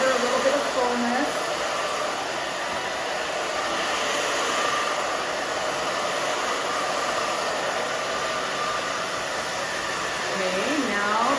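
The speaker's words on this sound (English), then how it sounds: "So I am drying the opposite way just to give her a little bit of fullness." A hair dryer blows steadily and loudly while a pixie cut is dried and styled, its constant whooshing roar filling the whole stretch with no talking.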